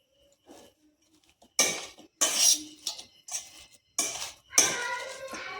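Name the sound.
mashing potato with onion, green chili and coriander leaves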